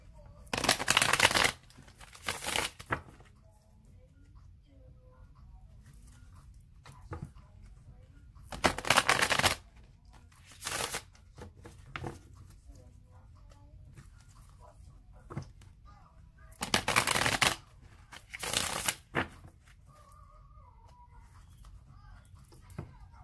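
Tarot cards are shuffled in several loud crisp riffling bursts, each lasting a second or two and separated by quieter stretches where soft background sounds and low talk come through.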